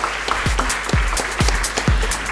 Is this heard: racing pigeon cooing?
no